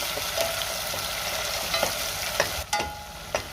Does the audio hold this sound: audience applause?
no